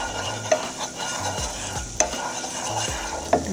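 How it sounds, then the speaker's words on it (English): A utensil stirs pasta sauce with chili flakes in a sizzling pan, close and steady, with periodic sharp taps of the spoon against the pan. "just stir that right in"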